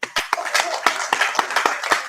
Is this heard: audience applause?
yes